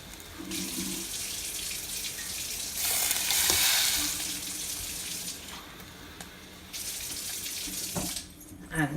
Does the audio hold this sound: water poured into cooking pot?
yes